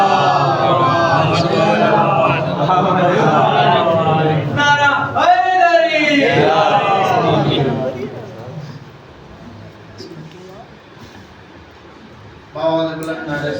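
A large gathering at a religious mehfil in Gopipura, Surat, celebrating the birth of Imam Hussain, chants slogans loudly in unison for about eight seconds. The chanting then drops to quieter murmuring before voices rise again near the end.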